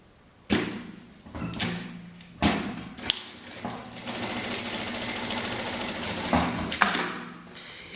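A sewing machine stitches a seam joining printed fabric panels face to face, with a few sharp starts and knocks, then a steady close whir running for several seconds before it stops.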